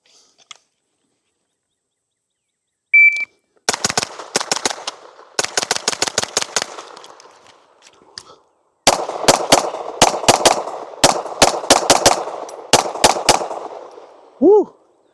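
Suppressed shots from a MAT9 roller-delayed pistol-caliber carbine, then a pistol, crack out at close range in quick strings and doubles, with a timer beep beforehand and a brief exclamation at the end.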